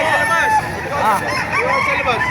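A rooster crows with drawn-out rising and falling calls, mixed with chicken clucks and background chatter from a busy outdoor crowd at a chicken market in Bocaue, Bulacan.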